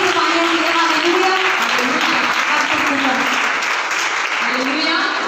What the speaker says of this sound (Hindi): आइए जोरदार ताली बजाते परमेश्वर की हम तारीफ करेंगे इस गवाही के लिए, सभी गवाहियों के लिए।